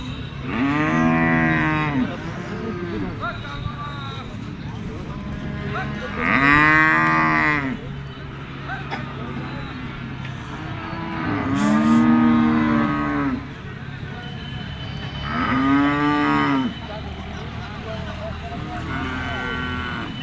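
Cattle at a Bengal livestock market, among them buffalo and English crossbred cows, give several loud, drawn-out moos at intervals over a steady crowd murmur, with a few nearby voices talking.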